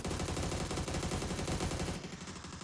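Sustained rapid automatic fire from an MG3 machine gun in the PUBG video game, a dense, loud, continuous burst of shots that holds steady before easing slightly near the end, with no talk over it.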